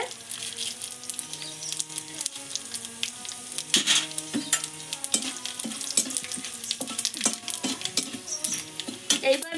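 Whole spices, cardamom, clove, cinnamon, dried chili and cumin, frying in hot oil for a vegetable dal: close crackling sizzle with frequent spoon scrapes and clinks against the pan, over background music.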